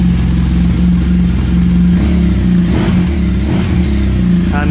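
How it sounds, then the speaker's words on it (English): A BMW R1200RS motorcycle engine revs up and settles repeatedly over a steady idle, loud and close, with some mechanical clatter. "And when you rev it,"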